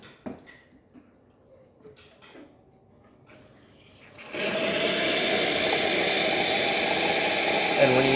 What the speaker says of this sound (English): you're going to hear the pump turn on